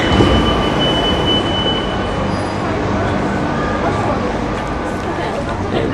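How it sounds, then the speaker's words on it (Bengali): A Rome metro train rolls into a station with a steady, loud rumble of wheels on rail and a faint high whine, continuous throughout with a thin wash of crowd murmur behind it. "আমি যখন এখানে দাঁড়িয়ে আছি সেই মেট্রো রেলও এখানে চলে এসেছে"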